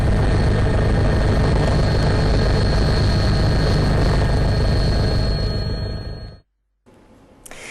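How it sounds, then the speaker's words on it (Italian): The Drago 81 helicopter flies over the area, a loud, steady rotor and engine roar that fades and then cuts off abruptly before a faint return. "l'elicottero Drago 81 ha effettuato un sopralluogo della zona dall'alto"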